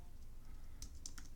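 Faint keystrokes on a computer keyboard, a few scattered clicks in the last half second over a quiet room hum.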